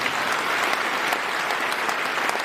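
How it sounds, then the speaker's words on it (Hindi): A packed hall audience breaks into loud, dense, even applause, a continuous close wash of many hands clapping at once. "तो मैं चाहूंगा एक बार सबके लिए जोरदार ताली होनी चाहिए दोस्तों"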